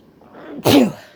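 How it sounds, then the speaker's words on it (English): A single sharp human sneeze, close and loud, preceded by a brief soft inhale. "I'm going to sneeze one more time, I think"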